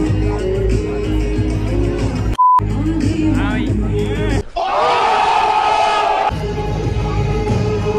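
Loud, dense roar of a huge festival crowd at a Delhi University college fest at Hindu College, with shouting and chatter throughout, a brief high beep cutting in, and a surge of louder cheering midway before settling back.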